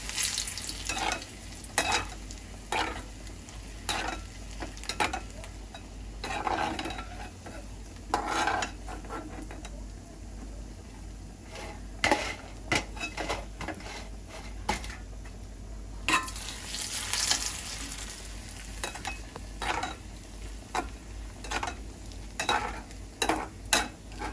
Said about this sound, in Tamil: இப்போ வந்து மிளகா பொறிச்சிருப்பேன்